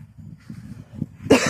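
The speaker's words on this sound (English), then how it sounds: "Quit smoking, still have smoker's cough." A short, rough cough bursts out once at close range after a moment of low breathy rumbling.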